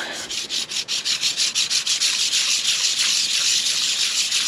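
Honda CRF 250 Rally clutch discs rubbed by hand against a smooth garage floor, a close, loud, rhythmic scraping that starts as quick separate strokes and blurs into a continuous gritty rasp.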